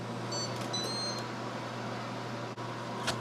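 A Ninja SLUSHi machine gives a short series of high electronic beeps over a steady motor hum as a frappe finishes mixing, then a click and a soft thud follow.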